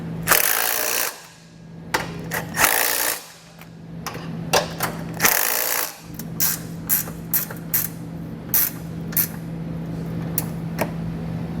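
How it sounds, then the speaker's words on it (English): A wrench works 13mm bolts snug on a Roadmaster Direct-Connect base plate kit, giving repeated ratcheting clicks in short bursts with metallic creaks and pauses between strokes, close and fairly loud. "we'll come back with a 13mm and snug them down."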